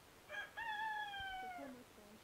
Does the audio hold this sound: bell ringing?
no